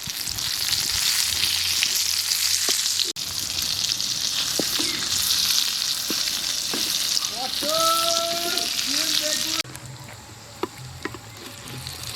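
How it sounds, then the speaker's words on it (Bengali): Soybean rice frying in oil in a home kitchen, stirred with a utensil: a steady, close sizzle with scraping strokes, a few sharp clinks and brief squeaks, continuing alone without talk. "এই দেখুন, নেড়ে নেবো।"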